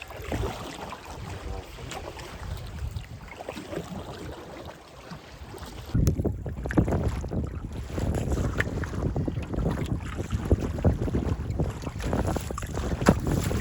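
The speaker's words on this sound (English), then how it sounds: "I've been just bodied by the wind this afternoon." Strong afternoon wind roars across the microphone beside river rapids while out pike fishing, a steady broadband rush that grows louder and gustier about halfway through, with no talking.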